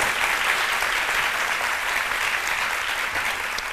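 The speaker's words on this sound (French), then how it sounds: "Merci de l'applaudir." A studio audience on a midday TV show applauds a chef, producing even, continuous clapping that fills the room from start to finish.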